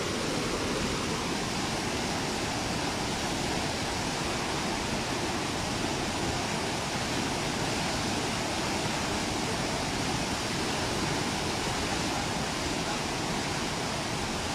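A river running high after overnight rain in Palenque, Chiapas, heard as a constant, dense rushing roar that stays steady and unbroken throughout, with no voices over it.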